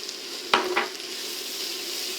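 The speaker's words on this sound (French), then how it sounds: "On mélange avec les légumes." A spoon scrapes through flour and softened vegetables in a hot pan: two sharp stirring strokes near the start over a steady, soft sizzle that continues alone to the end.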